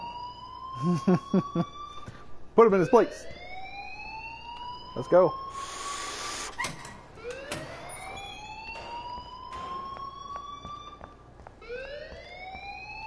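A school alarm in Life is Strange wails in rising electronic sweeps that repeat again and again, loud and close, with voices speaking over it.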